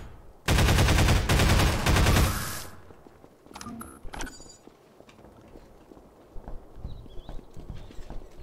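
Burst of rapid automatic gunfire in the video game Half-Life 2, a loud dense volley lasting about two seconds, followed by scattered fainter impacts and mechanical clanks.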